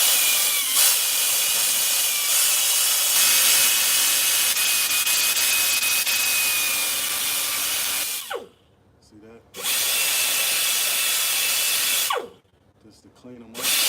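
A small handheld whizzy wheel fitted with a sanding attachment whines loudly and steadily, cutting out twice briefly before spinning back up.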